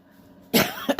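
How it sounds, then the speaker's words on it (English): A single close, abrupt cough after a moment of near silence, followed by a couple of short throaty catches. "I could not help the cough."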